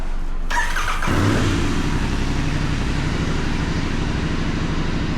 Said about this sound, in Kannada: ಸೊ ಹೊಸ ಬ್ಯಾಟ್ರಿ ಹಾಕಿದಾದ್ಮೇಲೆ ಗಾಡಿ ಸ್ಟಾರ್ಟ್ ಆಯಿತು